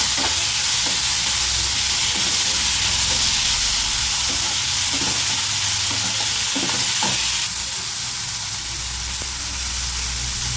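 Tomato chutney ingredients roasting in a pan, a loud steady sizzle with occasional stirring scrapes and clinks throughout.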